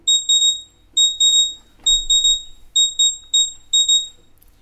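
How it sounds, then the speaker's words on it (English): Repeated electronic alarm beeps from a trading platform sound in quick bursts of two or three tones, loud and close, with a short pause and a faint thump between groups and no talking. "oops, my alarms."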